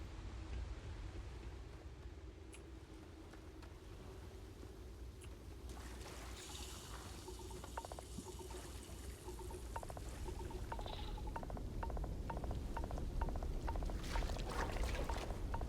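Water sloshing and pouring around a character meditating in poisoned water in Starfield, a steady gurgling wash with small trickles that stays fairly quiet throughout, over a low ambient rumble.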